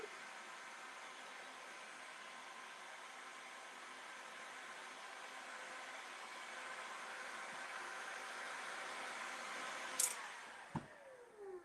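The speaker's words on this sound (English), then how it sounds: "This is one of those heat guns you can adjust the heat." An adjustable heat gun set to middle heat gives off a steady, even blowing hiss for the whole stretch, with a few faint clicks and knocks near the end.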